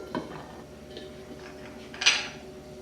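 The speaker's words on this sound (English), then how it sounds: "So now I'll put my lid back on." A lid is set back onto a crock pot of homemade beef stew, giving a light clink early on and a sharper ceramic clatter near the end, close and brief against quiet.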